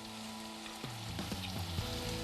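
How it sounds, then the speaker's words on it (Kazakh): Onions frying in melted butter in a pan give a soft, steady sizzle close by, with a few light scrapes and taps from stirring. "Сары маймен жаңаға пиязды сіз араластырдыңыз."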